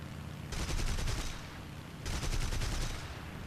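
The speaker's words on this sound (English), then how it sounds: "Now I'm firing only cannon and good." Cannons on a Heinkel He 112B-0 fighter in the War Thunder flight game fire in two sustained rapid bursts over steady engine drone, loud and close.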